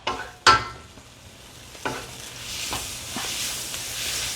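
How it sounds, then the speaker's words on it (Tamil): Tomato sautéing in a pan for onion rice, with a few sharp stirring scrapes and knocks, followed by a rising soft sizzle and hiss of frying in the background. "தக்காளி பழம் ஒன்று வட்டி வச்சுக்கிறேன். அதுவும் ஆட் பண்ண போகிறேன். போட்டு நல்லா வதக்க போகிறேன்."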